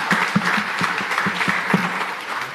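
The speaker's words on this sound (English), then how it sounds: "Give yourselves a round of applause." Crowd of paddlers applauding at a cystic fibrosis fundraiser awards ceremony, sustained loud clapping with a few sharper nearby claps standing out through the steady roar.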